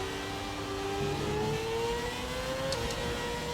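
A V10 racing car engine in a video game holds a high, steady whine that slowly climbs in pitch, continuous and fairly close, with no voices.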